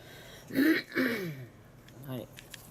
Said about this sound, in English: Of course I'm on video, so now I have to clear my throat.